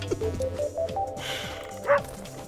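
Cartoon dog barks at a bird in the video game Meditations, a few short yips and woofs scattered over soft game music, one brighter bark near the end, no talking.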